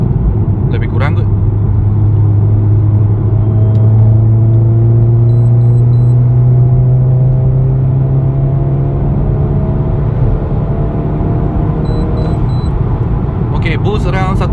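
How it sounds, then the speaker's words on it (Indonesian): Heard from inside the cabin, a tuned VW Scirocco 1.4 TSI remapped to 205 hp pulls hard in sport mode, its engine drone climbing steadily in pitch with a supercharger whine on top. The sound is loud and continuous. "After tuning korang pun boleh dengar dia punya supercharge punya bunyi masa korang pakai sport mode"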